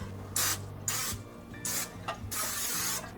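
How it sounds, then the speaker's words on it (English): Several short bursts of cooking spray hiss close by onto a 9x13 baking pan, separated by brief pauses, with faint clinks in between. "Let's spray this."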